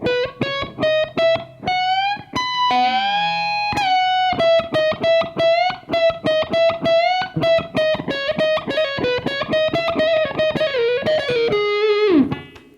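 A distorted electric guitar plays a fast, choppy riff, repeated notes and bends, loud and close, ending with a sliding drop.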